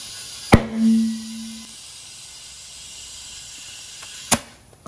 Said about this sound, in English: I'm going to probably make a loud pop here, possibly, as that bead sets.